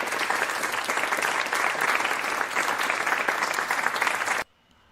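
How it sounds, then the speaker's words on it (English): A round of applause welcomes a new member, steady clapping from a group held for about four and a half seconds before stopping abruptly into quiet. "we want to give them a round of applause"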